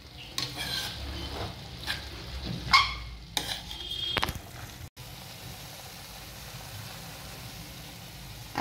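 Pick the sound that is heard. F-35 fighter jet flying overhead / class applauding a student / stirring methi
stirring methi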